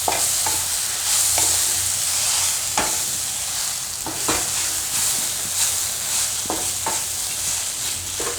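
Grated beetroot cooking in a pan, stirred with a spoon a few times against a steady soft sizzle, the scraping strokes coming at irregular intervals with no voices.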